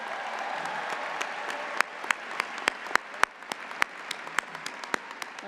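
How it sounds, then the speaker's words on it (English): Applause from a large audience at a university undergraduate commencement ceremony, a steady wash of many hands clapping with sharper individual claps popping out near the front, sustained throughout. "let's also give a big round of applause to our men's lacrosse team"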